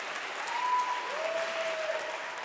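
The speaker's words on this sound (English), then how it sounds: "I'll wait for the applause." Steady applause from a debate audience, continuous clapping throughout with a faint tone drifting in the background.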